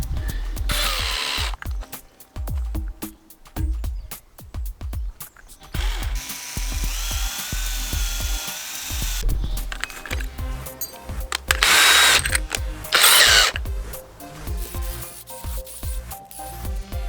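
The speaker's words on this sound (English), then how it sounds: "when I drill the holes and put the dowels in" A power drill boring dowel holes into the wood of an old Victorian pub table under restoration, with several bursts of whirring and grinding separated by pauses and clicking handling noises.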